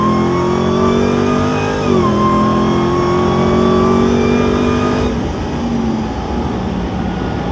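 A RAM TRX fitted with a Cornerstone Performance cold air intake revs loudly and close, engine pitch rising and easing in steady sweeps, then dropping toward idle near the end with no one talking.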